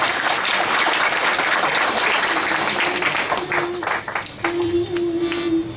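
A live audience at a Gujarati music program breaks into sustained, dense clapping that gradually thins out, with a soft tone emerging toward the end.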